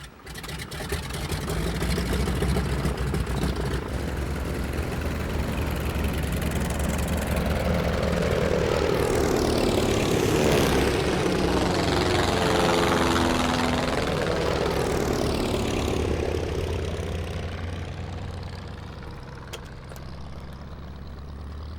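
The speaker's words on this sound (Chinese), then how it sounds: "报告秘书长，马丁机组已经起飞" A Martin propeller aircraft roars through its takeoff run and climbs away at a wartime airfield, its loud engine drone rising and sweeping past before easing off toward the end.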